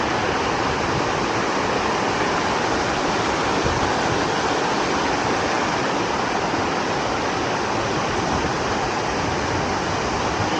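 A fast-flowing stream in Korea rushes continuously, a dense, loud, steady roar of moving water close by with no voices over it.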